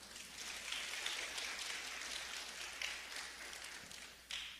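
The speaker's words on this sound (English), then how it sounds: "Can we give him another round of applause?" Audience at a 2025 commencement service gives sustained applause, a dense, even patter of clapping at moderate distance that holds steady, dips briefly, then swells again near the end.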